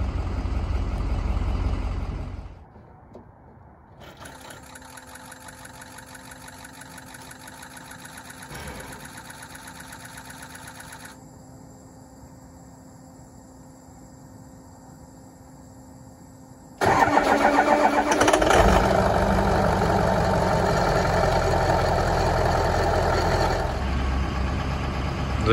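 A Ford 6.0 Powerstroke diesel V8 in cold weather cranks and fires, then settles into a steady idle before stepping up to a louder, higher idle with a clattering diesel rumble close by.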